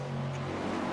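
A GTP race car engine in the iRacing sim, a steady, loud, droning engine note holding an even pitch through a short moment with no voices.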